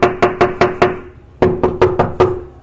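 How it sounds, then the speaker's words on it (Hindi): Loud knocking on a door, two bursts of five sharp hard raps each in a quick even rhythm with a short pause between them, close and with no voices. "मैंने दरवाज़े को ज़ोर ज़ोर से खटखटाया"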